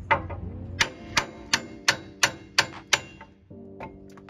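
A hammer taps out a CV axle on a Dodge Ram: about seven sharp, close metallic strikes in an even rhythm, each ringing briefly before the next.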